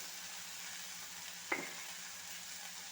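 Mango, salt, capsicum and okra stir-frying in a pan, a steady close sizzle with a single sharp metallic tap of a spoon midway.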